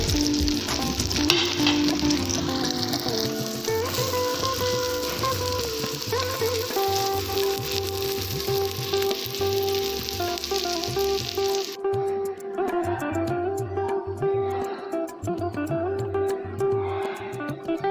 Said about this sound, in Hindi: सारी शामियों को ऐसे ही तल लेंगे।